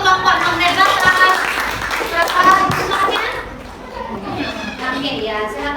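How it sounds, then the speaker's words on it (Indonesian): Children clap together for a class group in a classroom, a brisk ripple of applause mixed with kids' chatter and voices throughout. "Tepuk tangan untuk kelompok Magnet Batam."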